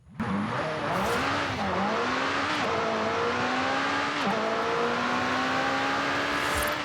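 A McLaren 650S Spider engine in the video game Forza Horizon 5 howls steadily, revving up and dipping through gear shifts, with faint tire squeal, loud and continuous.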